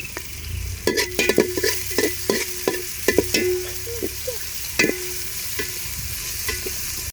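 Ground spices (cumin paste, turmeric, coriander, chili powder and salt) fried and stirred in a pan for meat khichuri, with repeated scraping strokes over a steady sizzle, close and alone.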